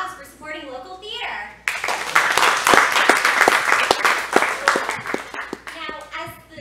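Theater audience applauding after the call to support local theater, a loud burst of clapping that starts abruptly and carries on steadily, with talking just before it and again as it fades.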